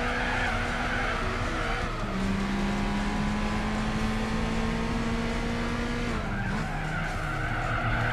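Tires spinning and squealing on a Suzuki concept car in Gran Turismo 4, a loud sustained screech over the whining, revving engine that holds for several seconds and then shifts pitch near the end.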